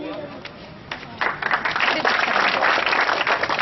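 A school audience claps loudly and steadily as a student receives a silver coin award, the applause swelling from a light start into a dense, continuous burst lasting a few seconds.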